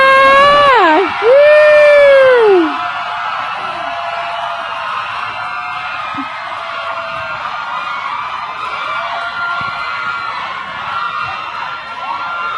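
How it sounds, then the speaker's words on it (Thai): A piercing high scream rises above a crowd at an award ceremony, followed by sustained loud cheering and shrieking from many people. "ขอเสียงกรี๊ดดังๆให้กับเจมส์มาด้วยค่ะ"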